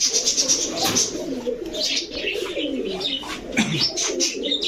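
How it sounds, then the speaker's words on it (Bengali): A loft of high flyer pigeons, Rajshahi, Budapest and Gorra types, coos in soft overlapping murmurs close by. Light chirps mix in, and faint voices sit in the background. "এগুলা কি সব উড়ার কবুতর? সব ফ্লাই হাই ফ্লায়ার কবুতর ভাই।"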